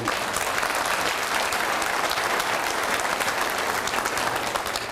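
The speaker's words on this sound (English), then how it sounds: "Let's give her a round of applause." Sustained audience applause at a Veterans Day community event, loud and dense steady clapping from a large crowd lasting throughout.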